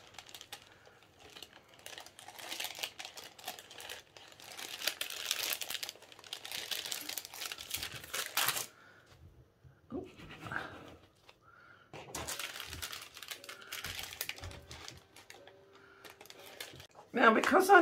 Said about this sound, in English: to protect the sole plate, I'm going to use a piece of greaseproof kitchen paper while I iron round.